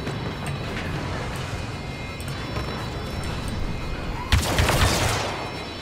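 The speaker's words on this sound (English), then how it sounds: "He's shooting it." Gunfire in Star Wars Battlefront 2 during a cache grab mission, a steady background of distant shooting with scattered faint bursts, then a louder, closer volley near the end.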